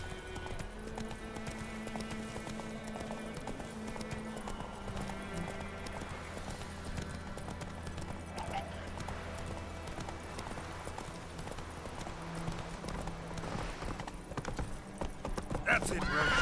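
Roach the horse's hooves patter steadily in The Witcher 3, quiet beneath a musical score and game ambience, with voices talking over the ride.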